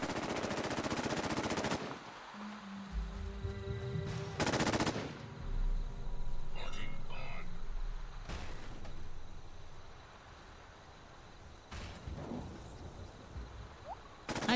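Vertibot gunfire in Fallout 76: loud bursts of rapid automatic fire open the clip, followed by further sharp volleys and scattered shots against a low ambient game background.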